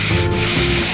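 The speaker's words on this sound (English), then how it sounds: "then just slowly sand it by" A sanding sponge rubs by hand along the rounded edge of a wooden table, giving a steady close scraping hiss that runs without a break for a second.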